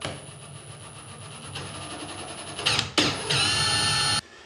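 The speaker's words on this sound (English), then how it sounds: "I'm just going to drill a 1/4 inch hole." Power drill boring a 1/4 inch hole in a wall for plastic screw anchors during a mirror frame install, a short whining burst that rises and cuts off, with a brief pause partway, close and fairly loud.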